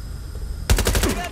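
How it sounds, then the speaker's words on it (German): Burst of rapid automatic gunfire in Watch Dogs: Legion, erupting suddenly after a quiet ambient lull and continuing as loud repeated shots. "Wir werden beschossen!"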